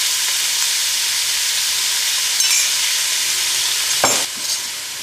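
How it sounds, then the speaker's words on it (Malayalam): Onions with salt stirred and fried in a pan for egg biryani: a steady, close sizzle fills the whole stretch, with spoon scrapes and a sharper clack near the end, and no voices. "ഈ സവാള നന്നായിട്ട് കളർ മാറുന്നത് വരെ നമുക്കൊന്ന് മിക്സ് ചെയ്യാം."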